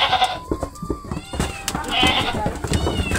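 Several village goats bleat nearby in short, quavering cries that overlap one another, mixed with background voices and farmyard movement.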